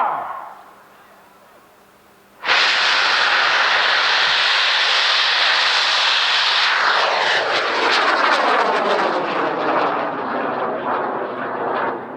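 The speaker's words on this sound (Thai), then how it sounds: "เครื่องบินมาพอดีเลย" An airplane flies overhead: a loud, broad roar cuts in abruptly after a quiet opening, holds strong, then sweeps downward in pitch as it passes and slowly recedes.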